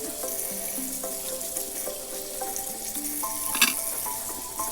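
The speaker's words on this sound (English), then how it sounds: "so wash the zucchini real good" Zucchini is washed under a running kitchen tap, a steady close hiss of flowing water with light splashing and a few brief clatters, no voices.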